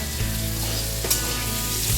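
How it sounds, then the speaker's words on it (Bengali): Potato pieces fry in hot oil in a pan, a close, steady sizzle with a brief stirring scrape partway through. "আলুগুলি ভাজা হলো"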